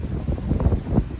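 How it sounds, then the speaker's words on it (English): Strong gusts buffet an outdoor microphone on Deer Island, a loud, rumbling low roar that surges and pulses continuously with no speech. "It's windy. That's all we think about is all this wind."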